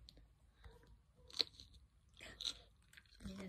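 A few crisp crunches from close bites into firm cucumber by tortoises, spaced out over a few seconds, with soft rustling and a low rumble near the end.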